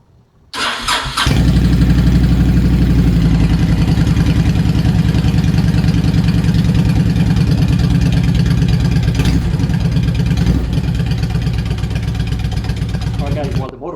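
A Honda VTX 1300R motorcycle cranks briefly, catches and settles into a loud, close, steady idle that throbs evenly as it warms up, with a voice faintly under the engine.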